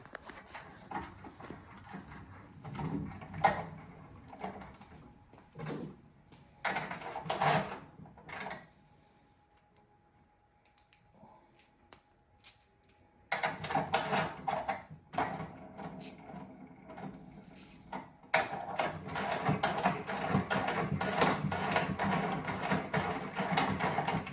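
A bolt being threaded into a part of a 1/6 scale Sdkfz7 model kit produces bursts of creaking, grinding metal turns separated by a quiet pause, then a longer stretch of steady scraping.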